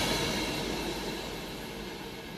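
A train passing straight through platform 1 at Tamworth station, a steady loud broadband roar and rumble of wheels on rails sustained throughout, with no talk.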